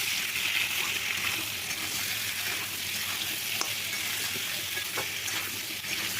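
Bitter gourd and potato frying in a pan, producing a steady, moderately quiet sizzle with occasional faint clicks of stirring.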